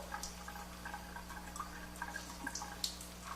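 Water runs at an easy, gentle flow from an AlkaViva Jupiter Melody JP104 water ionizer, a faint steady trickle with scattered small drips and splashes over a low electrical hum.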